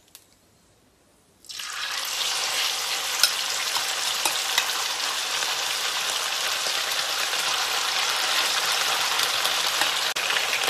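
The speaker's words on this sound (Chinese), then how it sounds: "我们要把这个肉等于是炸一下。" Lamb pieces hitting hot oil in a pan for cumin lamb: after a second of near silence, a loud, steady sizzle and crackle erupts and continues close up without talk.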